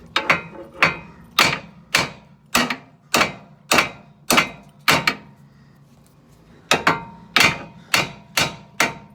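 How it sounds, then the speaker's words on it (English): A hammer striking the steering knuckle of a 2014-2017 Hyundai Elantra during transmission removal: sharp metallic blows in a steady rhythm, roughly a dozen, loud and close, with a brief pause midway. "I'm going to tap on this knuckle, and hopefully it'll knock it loose"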